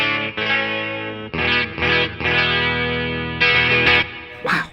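A 1985 Fireglo Rickenbacker 330 electric 12-string guitar rings out in loud, heavily effected chords with a shimmering, distorted tone, each strum sustaining before the next.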